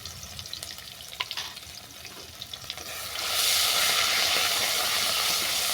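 Spices with ginger-garlic paste, salt and turmeric fry in a pan for an egg curry. A moderate sizzle with light stirring clicks swells into a louder, hissing fry about halfway through.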